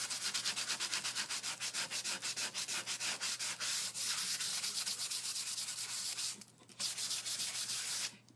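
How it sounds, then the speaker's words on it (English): Steady abrasive sanding of a wall or panel surface being prepped for a high-gloss lacquer finish, with rapid back-and-forth rubbing strokes close up, continuous and loud, pausing briefly near the end before resuming. "So we're really just going to sand here."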